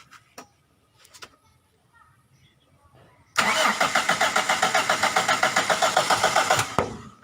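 A Toyota Hi-Torque pickup engine with a faulty distributor cranking loudly and rhythmically for about three seconds without starting, after quiet rustling, with a faint voice earlier.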